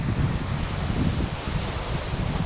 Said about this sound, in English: enjoying the scenery and the sound of the waves crashing